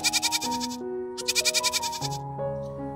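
A goat bleats twice in quavering, wavering bursts, loud and close, over a soft musical melody.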